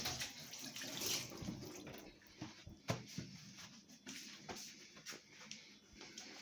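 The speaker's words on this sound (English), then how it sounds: "Just gonna wash my hands." Tap water runs steadily into a kitchen sink while hands are washed before cooking, a soft close splashing hiss with faint shuffling and occasional knocks, no talking.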